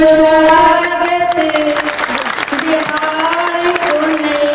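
Crowd applause welcoming the speaker at a Jan Suraaj political rally, a steady wash of clapping from a large gathering with a voice carrying over it throughout.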